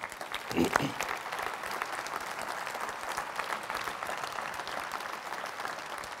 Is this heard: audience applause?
yes